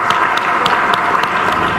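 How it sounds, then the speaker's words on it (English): An audience applauding a speaker at a wrap-up session: steady, loud, close clapping from many hands, dense and continuous. "Ladies and gentlemen, round of applause to Dr. Lola Dare."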